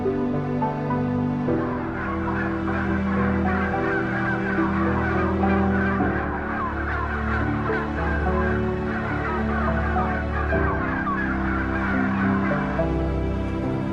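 Dense poultry flock packed inside a crowded building, a continuous loud din of many overlapping clucks, honks and gobbling calls with no pauses and no voices.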